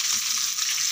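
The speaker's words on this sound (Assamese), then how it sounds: "পিঁয়াজখিনি ৰঙাকৈ ভাজি দিম" Onion fries in hot oil until browned, giving a brief, steady, close hiss of sizzling with no voices.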